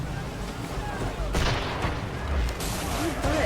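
Cannonball fire striking a ship during a naval battle in Assassin's Creed 3, a dense rumble of booming impacts and crackling over steady background noise, with bursts of louder hits and people talking.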